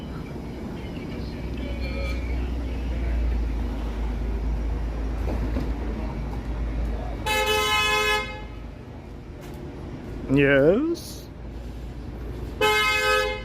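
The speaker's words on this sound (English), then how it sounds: "She's literally honking to hurry up." A car horn honks on a downtown Toronto street at dusk: two long, loud blasts separated by a rising vehicle tone, over steady city traffic, with a brief spoken word.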